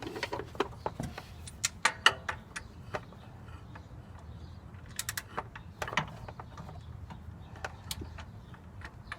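Wrench turning the crank bolt to rotate the 5.2L or 5.9L engine of a Jeep Grand Cherokee ZJ, heard as a series of sharp ratcheting ticks in irregular clusters, close but faint over a low background hum.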